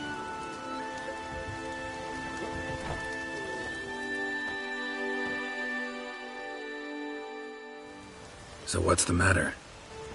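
Steady rain falls throughout a video game scene, a continuous patter beneath a voice, until a brief louder burst of noise near the end.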